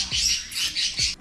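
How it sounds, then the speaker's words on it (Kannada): Small pet birds sheltering inside a clay pot give three short, close chirps in quick succession, with no talking. "ಈ ಮಡಿಕೆ ಒಳಗೆ ಕೂಡ ಬರ್ಡ್ಸ್ ಉಂಟು ನೋಡಿ"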